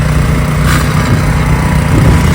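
Loud, steady drone of a low-voltage wire trencher's small engine running close by in a yard, a constant rough hum without pauses.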